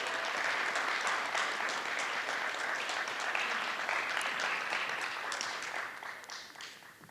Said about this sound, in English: a big round of applause for the middle school photography winners